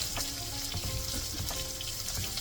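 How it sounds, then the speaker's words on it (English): Beef broth streams into a pot roast pan, a steady splashing pour mixed with faint sizzle, close and continuous, with no speech. "So we're going to use beef broth today."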